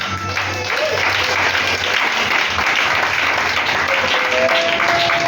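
A church congregation applauds in a sustained, dense burst of clapping that fills the room steadily from start to finish, with some voices mixed in.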